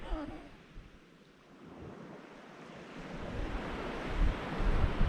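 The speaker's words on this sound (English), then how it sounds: "You just hear the water lapping on the beach." Sea water laps on a beach along the Holderness coast, a soft continuous wash of surf that rises gradually toward the end, with wind rumbling faintly against the microphone.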